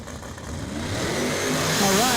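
Drag racing cars, a Mustang against a Chevrolet, with engines rumbling and rising in a building rev, heard at a distance under a commentator's voice.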